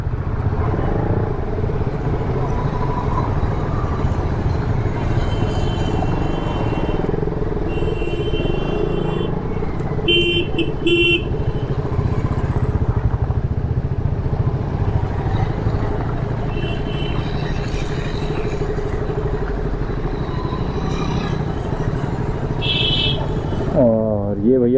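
A group of bikers' motorcycles rumble steadily on a road during a Haridwar to Kedarnath ride, with a few short horn blasts above the continuous engine drone and someone talking over it.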